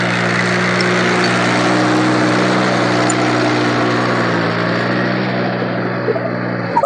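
A tractor engine drones steadily while working in a muddy paddy field during rice planting, a loud continuous near hum that holds throughout before easing slightly at the end.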